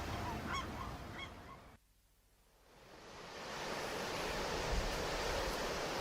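A goose-like honking squawk sounds as an effect in a narrated children's story, a few raspy calls over a whooshing background before a short silence, then ocean waves rise.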